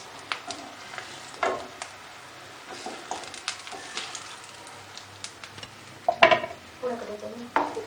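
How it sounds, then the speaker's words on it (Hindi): Potato kebabs frying three at a time in a frying pan over medium flame, with a low background sizzle broken by repeated clinks and scrapes of a utensil against the pan. "एक टाइम पर हम 3-3 कबाब फ्राई करेंगे क्योंकि फ्राइंग पैन में गुंजाइश नहीं है।"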